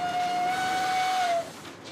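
Steam whistle of the Cévennes heritage steam train in France, a single long steady tone held for about a second and a half before cutting off, loud and fairly close, with faint rail ambience underneath.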